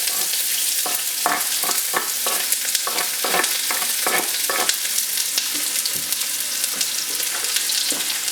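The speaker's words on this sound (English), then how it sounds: "I'm going to add my sliced onions inside the tomatoes, inside" Sliced onions sizzling in hot oil with tomatoes for a Nigerian red stew, a steady dense fry with a run of scraping stirring strokes in the first five seconds, close and loud, no talking.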